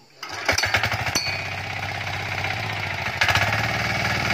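A Trâu Vàng 2020 diesel tiller engine runs close by on a field, opening with sharp knocking bursts and then settling into a steady, loud, rhythmic chugging that swells again near the end.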